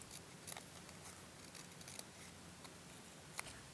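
Quiet snips of scissors cutting a paper sticker into squares for diary decorating, a few faint crisp cuts spaced irregularly against a low hiss, with no talking.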